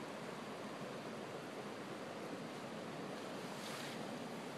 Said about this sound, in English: Beautiful waterfall down the way.